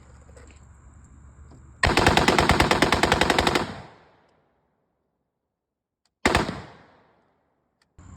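An airsoft AR pistol bump-fires at paper targets from 82 feet, with a loud, rapid burst of about two seconds, a pause, then a second shorter burst up close.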